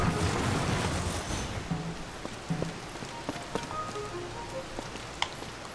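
Steady rain pours down in the video game Tears of the Kingdom, a dense hiss with scattered drop ticks and soft game tones over it, fairly quiet and constant throughout.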